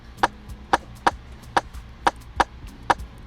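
Afrobeats rimshot pattern programmed in FL Studio 20 with a time shift, seven sharp, dry woody clicks at a steady slightly uneven rhythm, loud and close over a faint low background with no voice.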